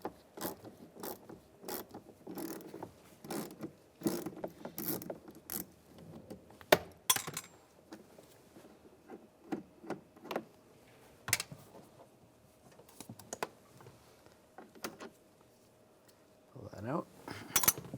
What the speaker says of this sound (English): we're going to take these screws out, use a